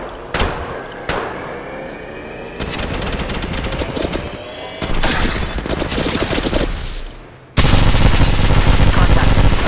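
Rapid automatic gunfire and single shots from Apex Legends Mobile, loud and near, arriving in dense bursts and short volleys across the whole stretch, ending in a sustained heavy barrage.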